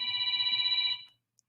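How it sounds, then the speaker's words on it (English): A telephone rings with a steady electronic trill, loud and close, holding for about a second before cutting off, followed by a tiny click and silence. "anytime I can hear the phone ringing externally, that means it's not plugged in properly"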